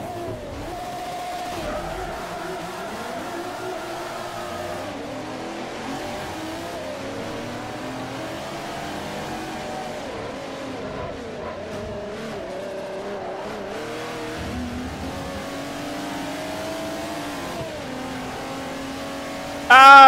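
A Jaguar car engine revs and races in the video game Forza Motorsport 4, a continuous mid-level engine drone with rising and falling pitch sweeps as it accelerates and shifts, plus a brief loud burst at the very end.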